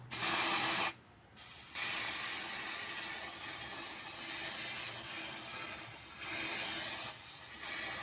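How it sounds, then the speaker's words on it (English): A spray paint can hisses in long continuous bursts with a few brief pauses between them, close and fairly loud. "Now it's time to spray paint the web shooter."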